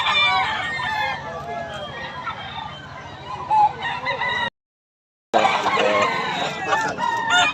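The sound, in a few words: roosters crowing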